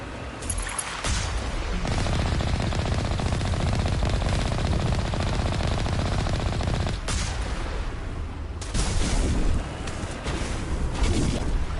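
Sustained heavy gunfire from a tank in Mass Effect roars on for several seconds, drops off briefly, then resumes as a loud, dense barrage.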